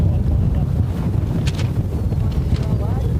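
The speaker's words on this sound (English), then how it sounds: "Wind's getting real nasty." Strong wind buffets the microphone at an outdoor airfield during a model aircraft design-build-fly competition, a steady low roar throughout with a few brief higher gusts.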